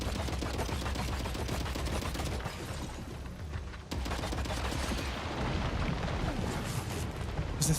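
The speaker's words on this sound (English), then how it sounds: "where's that fucking grenade launcher coming from?" Repeated rapid gunfire and blasts in Death Stranding 2 combat, with a grenade launcher firing among them: a loud, dense, continuous barrage of booms and shots filling the whole stretch, briefly dipping midway, with no talking.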